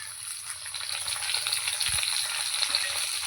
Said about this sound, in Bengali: চিকেনটা দিয়ে ভালো করে আমাকে নাড়াচাড়া করে ভেজে নিতে হবে